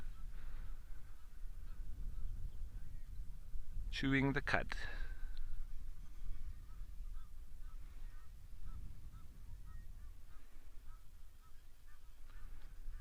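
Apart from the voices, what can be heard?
Egyptian geese honking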